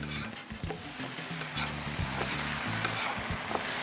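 French toast made with bananas frying in a hot pan, a steady close sizzle with several low thumps and clatters as the slices are flipped, no talk.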